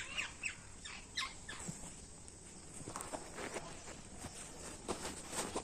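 Parrot in a home garden near guava trees, giving short harsh squawks in scattered bursts amid faint rustling and footstep-like taps, fairly quiet and a little distant.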